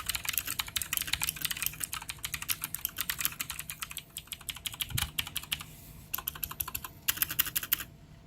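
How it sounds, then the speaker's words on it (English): Rapid, crisp clicking of a Redragon mechanical keyboard with Cherry Blue clone switches being typed on steadily up close, with brief pauses between bursts of keystrokes. "Let's do us a little typing test, see how this sounds, see if you can hear this."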